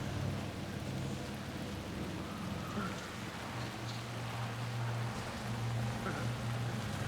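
Steady rain hisses throughout a scene in the video game Alan Wake 2, a continuous dense wash with faint low hums in the background.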